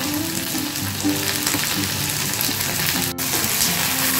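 Potatoes fry in hot oil with a dense, continuous sizzle and crackle close by, steady throughout apart from a brief click near the end.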